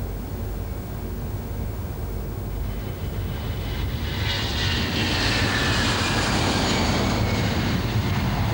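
Airbus jet engines spool up to takeoff power in a flight simulator, a loud steady roar that swells with rising hiss and whine partway through, continuous and close with no talk over it.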